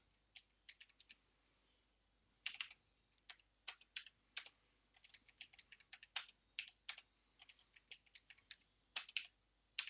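Fingers type on a computer keyboard in quick, irregular bursts of close, crisp clicks with short pauses between groups of keystrokes, in an otherwise quiet room with no talking.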